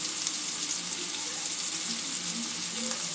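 Pointed gourd (kantola) pieces fry in oil in a pan, giving a steady, even hiss and crackle that holds at moderate loudness throughout.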